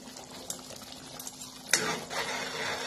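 Cream stirred into paneer tikka masala in a pan, with soft scraping and clinking of a spoon and a light sizzle. A stronger stir comes midway and continues steadily, close and fairly quiet.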